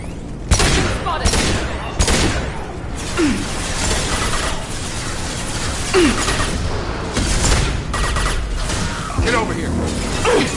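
Sustained gunfire from Blue Suns mercenaries in the Mass Effect 2 video game, with repeated shots and bursts, occasional booms and mechanical clatter throughout, mixed with voices speaking over the fight.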